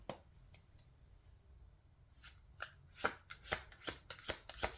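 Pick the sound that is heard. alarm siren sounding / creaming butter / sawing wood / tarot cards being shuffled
tarot cards being shuffled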